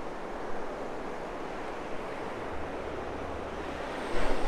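Ocean waves washing onto a beach at nightfall, a steady broadband rush of surf with some wind noise, continuous and moderately loud with a slight swell near the end.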